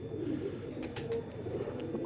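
A male pigeon coos softly and repeatedly while held in a hand, a low steady murmuring with a few faint rustles and higher chirps over it.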